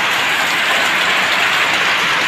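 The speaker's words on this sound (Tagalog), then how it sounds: "Ayan po, ang lakas ng ulan." Loud, dense rushing of heavy rain during flooding, a constant roar with no letup and no voices.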